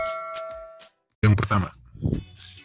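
A bright bell chime rings out and sustains at the start, then cuts off. Speech follows after a short silence.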